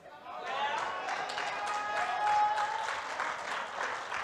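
Church congregation breaks into sustained applause, many hands clapping together at close range, steady and fairly loud for several seconds with a murmur of voices and chatter underneath.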